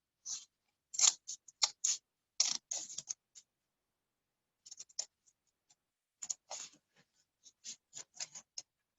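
Scissors snip fringes into a folded paper flower, a run of crisp close cuts, then a pause, then another quick series of snips.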